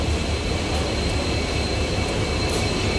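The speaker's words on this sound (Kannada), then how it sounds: "ನಮ್ಮ ಟ್ರೈನ್ ಬಂದಿದೆ" A continuous low rumble of a train rolling in, steady and fairly loud throughout, with no voices.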